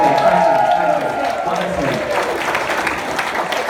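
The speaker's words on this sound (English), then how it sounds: "Give me a big round of applause for that" Applause from a large audience at a corporate awards ceremony, a steady dense wash of clapping filling the room for several seconds with crowd noise underneath.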